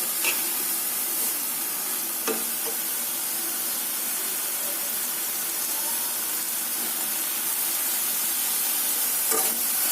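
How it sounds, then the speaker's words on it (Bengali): Moringa leaves, potato, onion and ginger-garlic paste frying in a pan, a steady dense sizzle and hiss, close and even throughout, with a few faint clicks of stirring. "এটা সুন্দর করে কষিয়ে নেব যাতে কাঁচা গন্ধ না আসে।"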